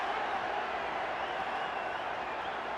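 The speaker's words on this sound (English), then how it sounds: "And listen to the response of the crowd." A large boxing crowd at Cowboys Stadium roaring and cheering in a steady, dense wash of noise with scattered applause, continuous and fairly loud throughout.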